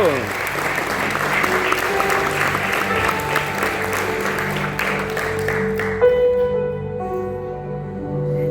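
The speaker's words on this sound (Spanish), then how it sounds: "¿Puedes dar un aplauso al Señor un ratito ahí?" A church congregation claps together in a sustained round of applause while music plays underneath, with a voice speaking over it; the clapping fades out around the sixth second, leaving the instrumental tones ringing alone.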